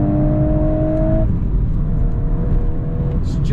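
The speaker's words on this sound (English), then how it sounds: "this just pulls to redline. It encourages you to stay in it and to rev it all the way out." A Volkswagen Golf R engine pulls hard toward redline, a loud, steady rising drone heard from the cabin with road noise underneath.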